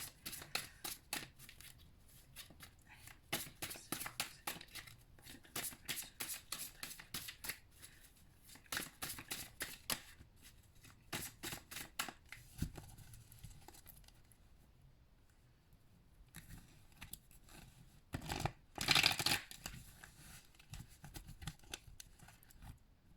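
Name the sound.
tarot cards being shuffled back into the deck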